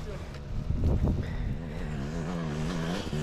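Dirt bikes ride past with a buzzing engine drone that rises and steadies, while excited voices shout over it nearby.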